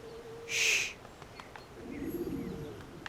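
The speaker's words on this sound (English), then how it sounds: "Nothing but pigeons." Pigeons in the video game Assassin's Creed give a soft coo over a hushed ambient bed, with a brief bright chirp-like burst early and faint cooing later.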